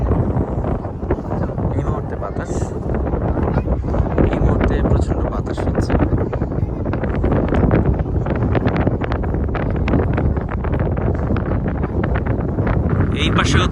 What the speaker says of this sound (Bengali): এই মুহূর্তে প্রচন্ড বাতাস হচ্ছে।